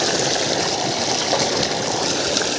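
Well water runs steadily, a continuous close rush of flowing water with an even texture, no break across the short stretch.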